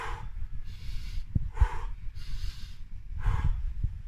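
Sharp, forceful breaths pushed out through the nose and mouth during an abdominal exercise on a chair with an elastic band, recurring in a regular rhythm about every second, close and fairly loud.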